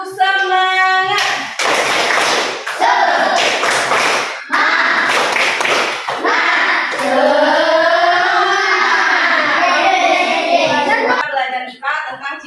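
A classroom of children doing a rhythmic spirit clap on a count of three, loud patterned bursts of clapping mixed with children's voices, with a teacher talking around it.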